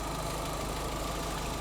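A 16-valve car engine idles in a steady, even mid-pitched hum with a faint rhythmic pulse, close by and with no other sounds over it.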